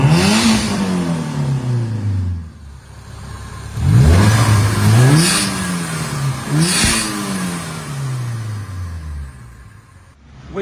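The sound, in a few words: supercharged Suzuki Vitara engine revving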